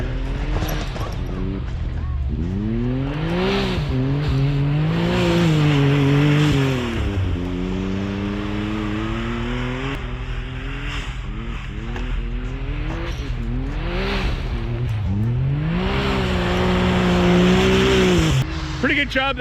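A high-horsepower drift car slides around a snowy course at a drift event, its engine revving up and down in repeated surges with tire noise, heard under continuous commentary.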